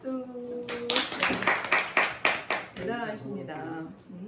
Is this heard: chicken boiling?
no